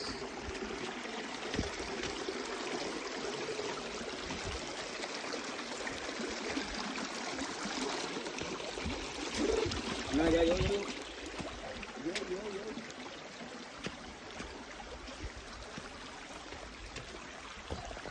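A forest stream flows over large stones near a waterfall on a trek in Lankamalla forest. A steady broadband rush of water continues throughout at moderate distance and swells briefly louder partway through.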